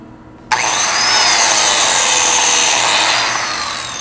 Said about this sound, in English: So I'll take my biscuit cutter.